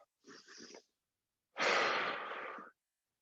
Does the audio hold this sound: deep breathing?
yes